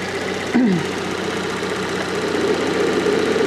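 A Fiat Panda 4x4 engine, recently hosed down to cool it, idles steadily with a continuous mid-pitched hum and faint rhythmic knocking, alone and close up, with no talk.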